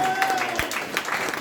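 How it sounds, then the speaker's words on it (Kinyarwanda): Applause from a church congregation during a Kinyarwanda-language sermon in Mozambique, a broad steady patter of clapping that fills the whole moment. "Imana amashyi cyane"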